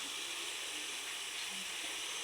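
Mushrooms and tomato fry in a pan with a soft, steady sizzling hiss that holds evenly throughout, with no talking.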